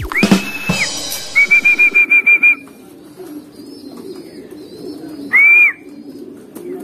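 Grizzle pigeons around a loft, with fluttering wingbeats and soft low cooing, while a person whistles repeated pulsed calls and a long rising whistle nearby.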